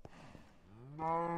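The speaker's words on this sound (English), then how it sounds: "Stop mooing." A single cow moos in the Minecraft video game, a short low bellow that rises and swells toward the end, heard alone and fairly quiet.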